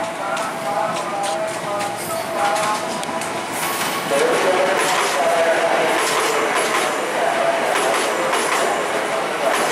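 Train passing through Tanah Abang station on track 3, a loud continuous rumble with rhythmic wheel clatter and faint squeals, steady throughout with voices underneath.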